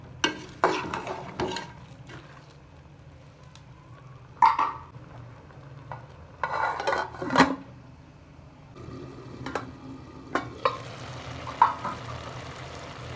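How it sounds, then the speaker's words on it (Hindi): Green bean pods, mongray, are stirred into masala in a cooking pan with intermittent scraping and clinking strokes over a soft, low sizzle, near and moderately loud. "मोंगरों को मसाले में अच्छी तरह मिक्स करके हम 5 मिनट के लिए कवर करके रख देते हैं"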